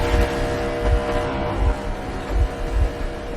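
Low engine rumble of a vehicle in Metro Exodus, a steady idling hum with rhythmic throbbing pulses, fairly loud and close, with no talk over it.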